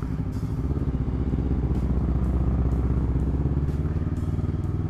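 A new Honda CBR250RR motorcycle with a Villan MV2 aftermarket exhaust rumbles steadily while riding, its engine loud and close with a continuous low drone and no talking.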